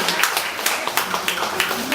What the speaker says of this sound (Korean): 두 분 박수로 첫 번째 스타트하신 거니까 큰 박수로